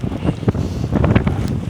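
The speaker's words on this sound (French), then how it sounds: "un peu de vent dans la gueule quand même" Wind gusts buffet the microphone outdoors during a camping trek in open country, with loud uneven rumbling bursts and rushing noise that rise and fall irregularly, close and heavy, and no talking.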